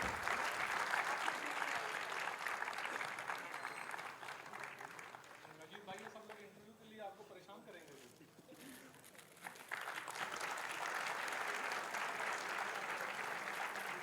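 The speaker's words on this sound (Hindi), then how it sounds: "ज़ोरदार तालियां हो जाए प्लीज़।" Sustained audience applause at a media and journalism literary session in Surat, loud and dense at the start and end with a quieter stretch in the middle where a voice speaks.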